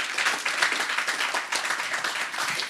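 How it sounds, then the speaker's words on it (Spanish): Congregation applauding at a church congress, a continuous dense wash of many hands clapping, fairly loud and steady throughout. "Dale un aplauso al Señor."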